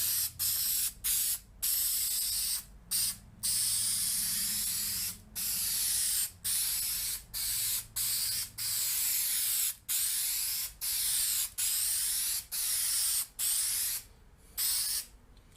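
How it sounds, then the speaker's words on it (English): Repeated short bursts of spray adhesive onto foam during a 1947 MG TC rebuild, hissing in steady pulses with brief gaps between them, close by and loud. "spray some of this on our foam"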